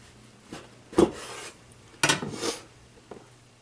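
Knife sawing through a Monte Cristo sandwich, two short bursts of rasping, scraping cuts with light clinks of blade on plate, fairly quiet with no talking.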